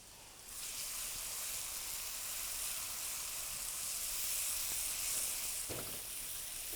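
Spices and onions frying in oil in a pan for Bengali egg curry, a steady close sizzle that swells once the spices go in, with a brief stirring clatter near the end and no talk.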